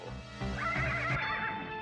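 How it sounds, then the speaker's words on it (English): A jet-black wild mare whinnies in a cartoon, one short rising neigh rounded off by a brief clatter, close and loud over a faint musical background. "There's a riderless horse up on the hill."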